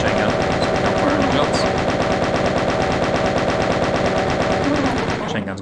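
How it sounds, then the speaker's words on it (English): The chain gun in the 1993 video game Doom fires in a long, loud, unbroken burst of rapid, evenly spaced shots. It stops abruptly near the end. "let's switch to chain gun"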